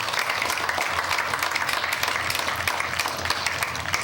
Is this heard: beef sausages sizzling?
no